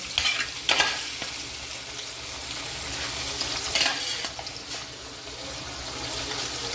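Beef kabab pieces roast in masala in a pan, giving a steady close sizzle with scraping stirs and a few louder bursts of frying noise throughout.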